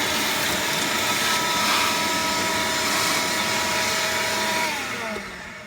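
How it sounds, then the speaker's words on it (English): A shop vacuum roars loudly and steadily as it sucks ash and creosote out of a Central Boiler E-Classic 1450 outdoor wood boiler, then its motor winds down at the end. "any ash that gets in here, or any creosote that falls out, make sure you vacuum it out"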